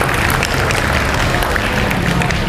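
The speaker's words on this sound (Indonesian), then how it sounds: "Ya tepuk tangan untuk teman-teman kalian yang 3 tadi." Schoolchildren clapping for their classmates in a classroom, dense continuous applause with scattered sharp claps, loud and close throughout, with some voices mixed in.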